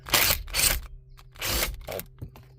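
A ratchet loosening the 7mm nuts that hold the radio in a 2004 Chevy Classic or Malibu gives bursts of bright mechanical clicking at close range, two quick runs, a pause, then two more, with no talk.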